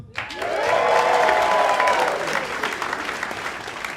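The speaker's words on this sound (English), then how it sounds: "Round of applause" A comedy show audience gives a full round of applause with some cheering, swelling quickly and then tapering off over a few seconds. It is loud and dense and heard on its own, with no talk over it.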